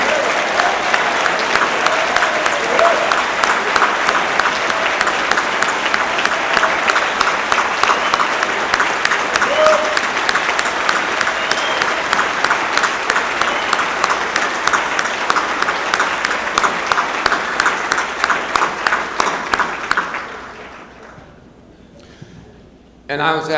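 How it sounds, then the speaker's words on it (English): An audience at a lecture gives a long round of applause, dense sustained clapping that builds and holds for about twenty seconds before cutting off abruptly, followed by a brief near-silence. "Give the young people here a round of applause"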